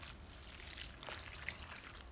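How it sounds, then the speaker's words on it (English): Water pours into a bowl of broccoli mixed with salt, baking soda and flour, a faint steady trickling splash that runs for about two seconds with no talk. "Then pour in enough water to fully submerge the broccoli."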